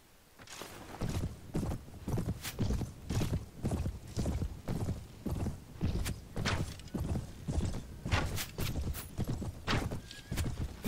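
Horse hooves in Mount & Blade: Prophesy of Pendor, a long run of steady galloping clip-clop beats, close and even, continuing with a quick regular rhythm.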